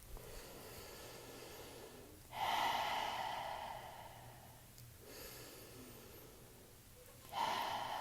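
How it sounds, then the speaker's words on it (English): Slow, full breaths during a yoga practice, two long inhale-exhale cycles each about five seconds, soft and close with a rushing airy quality and quiet room hum beneath, no talk. "2 slow, full breaths here"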